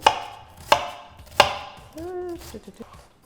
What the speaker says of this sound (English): So I'm gonna start by chopping my onion.